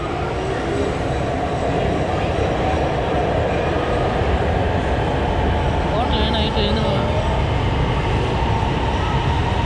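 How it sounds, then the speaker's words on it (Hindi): A Lahore Orange Line metro train arrives at a station, a steady loud rumble of wheels and motors filling the whole stretch, with a brief higher squeal midway while people chat nearby. "अरे वाह ट्रेन आ गई है इसमें ही जाना है"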